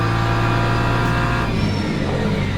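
Race cars in Le Mans Ultimate running side by side at Mount Fuji, a loud, steady engine drone with a strong low hum and a slight shift in tone partway through, with no voices.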